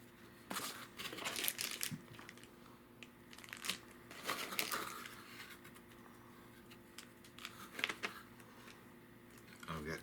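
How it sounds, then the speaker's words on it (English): Styrofoam packaging is crumpled and squeaked while PC parts are unboxed, giving close, faint bursts of crinkling and scraping with a few scattered clicks and handling noises over a quiet room. "knock it off with that styrofoam over there"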